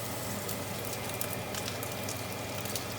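A cheap steak frying in a non-cast-iron pan, producing a steady low hiss and sizzle with soft crackles, fairly quiet and continuous with no talking.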